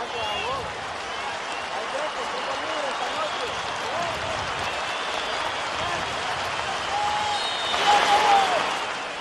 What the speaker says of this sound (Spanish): el minuto de silencio se convirtió en minuto de aplausos